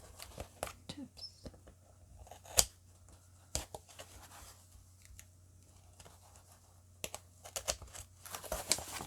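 Scissors snipping paper while making a junk journal cover, a few crisp close cuts scattered between soft rustles and handling noises in a quiet room.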